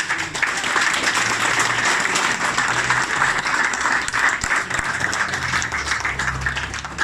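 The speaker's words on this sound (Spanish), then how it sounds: "Yo quisiera pedirle un fuerte voto de aplauso para todos los que han" An audience at a teacher-training talk in an art school gives strong, continuous applause for future teachers, a dense wash of clapping that holds steady for about seven seconds with faint voices underneath.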